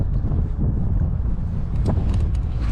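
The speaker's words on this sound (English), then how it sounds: "this wind keeps picking up, which is kind of brutal" Strong wind buffets a kayak on a marine creek after a cold front, a loud, constant rumbling roar close to the microphone, with no voices.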